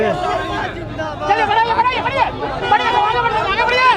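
A lively crowd chatters at an election nomination rally in Khagaria, many overlapping voices forming dense outdoor babble, with nearer voices talking over the steady hubbub.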